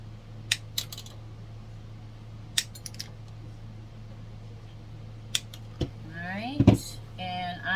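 Scissors trimming a craft carrot shorter, a handful of sharp, sparse snips and clicks close by over a steady low hum, with a brief faint voice near the end.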